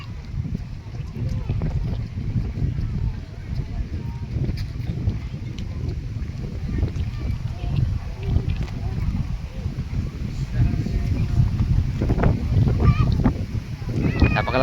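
Strong wind rumbles and buffets steadily, a constant low roar throughout.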